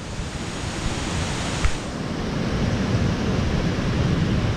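Steady broadband rushing of Tugonan Falls in Agusan del Sur, a loud continuous roar of falling water heard close up with no speech.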